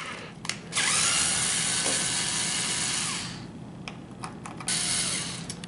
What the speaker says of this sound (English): I'm going to be removing the 8 screws that attach the top cover.